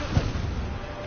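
Incendio fire spell cast in Hogwarts Legacy, a short, dense burst with a low thump at the start followed by a roaring whoosh of flame.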